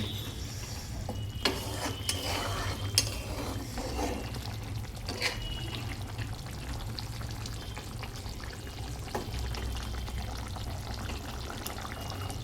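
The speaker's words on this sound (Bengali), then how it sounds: "ডিমের ঝোল দেখো গরম মশলা দিয়ে দিয়েছি আর ডিমের ঝোল আমার ফুটছে" Duck egg curry with garam masala bubbling and simmering in a pan, a steady soft bubbling hiss throughout with a few brief clinks and stirring sounds.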